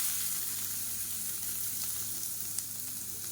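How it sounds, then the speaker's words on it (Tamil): Twenty lightly crushed garlic cloves frying in oil in a kadai give a steady, close hiss of sizzling that holds even throughout, with no voices. "பூண்டு வறுக்கணும், அதனால் எண்ணெய் விட்டுக்கலாம்"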